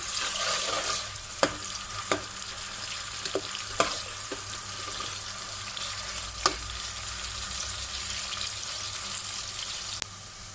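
Onions frying in oil for Pakistani chicken biryani, a constant loud sizzle punctuated by several sharp spoon-on-pot clicks from stirring, with no one speaking.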